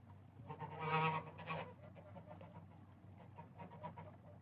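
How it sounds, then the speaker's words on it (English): Geese honk together outdoors, a soft, distant cluster of calls that rises briefly and then trails off into quieter scattered honks over a low background hum. "And there were geese."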